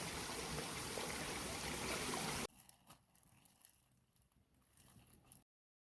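A mountain stream at the headwaters of the Cooper River in the Alpine Lakes Wilderness, a steady broadband rush of flowing water that drops to a quieter, softer trickle partway through.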